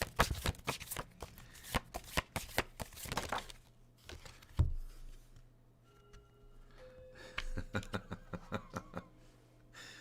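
Tarot cards shuffled by hand indoors, a quick flurry of close riffling flicks and slaps in the first few seconds, then softer scattered card handling and rustles with a faint background hum.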